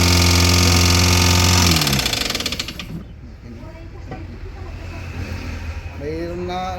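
A Toyota Avanza engine runs noisily, with a loud whirring rattle that drops off sharply partway through before a lower running sound continues.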